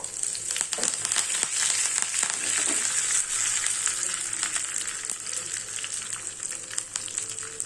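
Steady crackling sizzle of leaves frying in hot oil, with dense popping bursts throughout, close and fairly loud, no voices.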